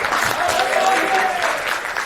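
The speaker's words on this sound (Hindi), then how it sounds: "लिए जोरदार ताली।" Loud, steady applause from an audience at a felicitation celebration for IIT JEE students, a dense wash of clapping that holds strong for about two seconds.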